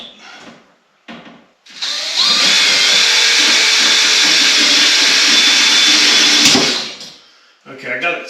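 A power drill drives a screw into a griddle hood build in one loud, steady whir lasting about five seconds, with brief talk before and after it.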